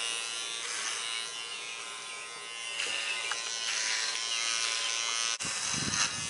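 An electric shaver buzzes steadily and close while shaving hair, with a shift in tone partway through and a brief click before it continues; no one speaks.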